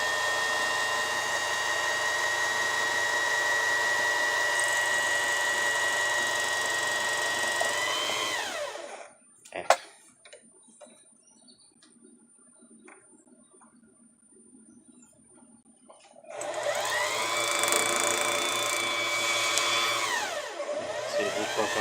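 A Singer Classic 44S sewing machine winds a bobbin with a steady, close motor whine that stops for several seconds, then starts again and keeps running.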